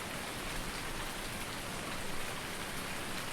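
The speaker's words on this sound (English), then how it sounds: "Okay, let's make it rain." Steady rain pours down in a video game, a dense continuous hiss of falling drops that stays even and unbroken throughout, with no voices.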